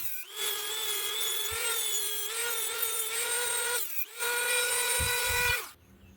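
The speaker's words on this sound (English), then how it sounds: "Now all I'm going to do is clean up the burrs." A power tool grinds burrs off the spark arrestor of a Honda XR150L motorcycle exhaust, making a loud, steady high-pitched whine with a brief pause partway through before it runs again and stops.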